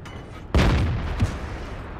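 Artillery fire in World of Tanks: a single heavy boom lands sharply and close, followed by a rumbling tail and a smaller thump, over low background game noise.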